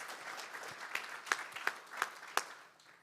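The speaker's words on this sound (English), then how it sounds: "And it's worth a round of applause." A small conference audience at a networking event claps for a few seconds, a soft patter of hands with several sharper individual claps standing out before the sound fades.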